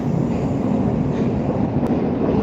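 Moscow metro train riding at night, a loud steady low rumble and roar of the carriage in motion filling the space with no talk.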